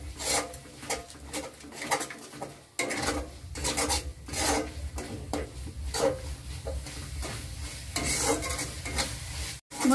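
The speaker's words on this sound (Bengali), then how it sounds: "মশলাগুলোকে ভালো করে কষিয়ে নেব।" Chilli powder and spices being sautéed in a pan for aloo dum: a steady sizzle with repeated scraping strokes of a spoon stirring the masala, close and fairly loud throughout.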